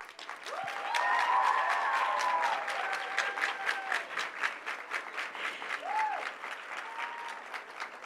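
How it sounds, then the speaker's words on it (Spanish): An audience claps to welcome author Rebecca Yarros at a book festival, soft and somewhat distant clapping that swells early and then thins, with a few faint tonal sounds over it. "Rebeca Yarros, un fuerte aplauso."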